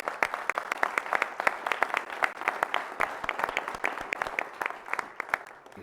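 Applause from the audience at a public meeting: many hands clapping at a steady, even density for several seconds, moderately loud and close, with no talking over it.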